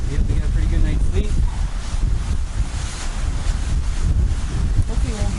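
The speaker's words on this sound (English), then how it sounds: "Hopefully it won't be windy all night." Strong wind blows at an island campsite during a canoe fishing trip, buffeting the microphone with a constant loud, gusty roar that never lets up.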